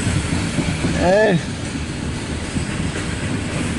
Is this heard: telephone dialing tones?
no